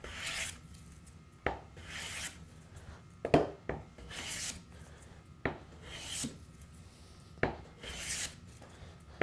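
A hand plane takes repeated long strokes across a wooden board, each pass a rasping swish ending in a soft knock, about seven passes in a slow steady rhythm, close up and without talk.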